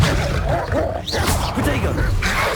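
An Incendio fire spell cast in Hogwarts Legacy makes a loud, dense burst of whooshing, crackling game noise that fills the whole moment, with a voice mixed in.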